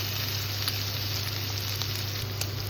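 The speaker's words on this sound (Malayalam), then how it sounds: "ഒരു 4 തൊട്ട് 5 മിനിറ്റ് വരെ നമുക്ക് ഇത് മീഡിയം ടു ഹൈ ഫ്ലെയിമിലിട്ട് റോസ്റ്റ് ചെയ്യാം" Prawns roast in a pan over medium-high flame, giving a loud, dense, continuous sizzle with faint crackles and no voices.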